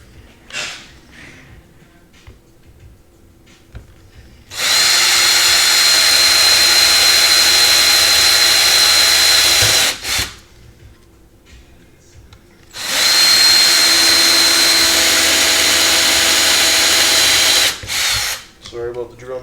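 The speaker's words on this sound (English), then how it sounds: "Sorry about the drill noise." Power drill boring holes during a robot toy hack, two sustained loud bursts of about five seconds each close to the microphone, separated by a brief pause, with quiet handling noise between.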